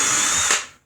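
A power drill runs in a short, loud, steady whine while window frames are built into a school bus conversion, then spins down and cuts off.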